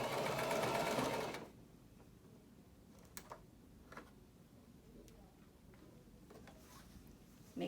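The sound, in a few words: sewing machine stitching fabric for a PPE gown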